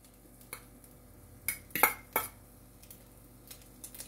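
Utensil scraping and clinking in a frying pan while spreading sardine over an egg omelet, a few sharp metallic taps clustered in the middle over a faint quiet background.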